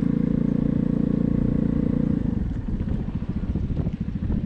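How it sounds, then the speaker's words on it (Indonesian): A Vespa GTS 300 i-get scooter fitted with an Akrapovic aftermarket exhaust, ridden on the road: a steady, buzzing engine drone that shifts into a rougher, pulsing rumble with clattery bursts, fairly close and heard alone. "Ini knalpot sudah diganti dengan Akrapovic oleh yang punya, yaitu Mas Bro Eri"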